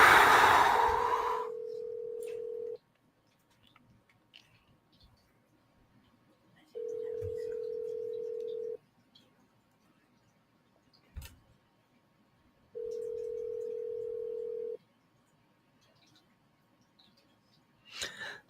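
Phone ringback tone while calling a realtor: three evenly spaced, steady two-second rings separated by long quiet gaps, heard clearly through the line after a brief burst of noise.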